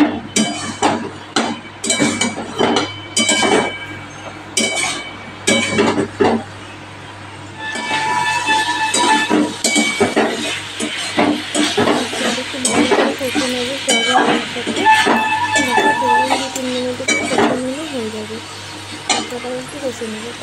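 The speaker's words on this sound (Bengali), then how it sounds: "সোয়াবিন আলুটাকে মশলার সাথে কষিয়ে নেব" Fried soybean and potato chunks get sautéed with spices in a pan, with a spatula clinking and scraping in irregular knocks while a voice talks over the cooking.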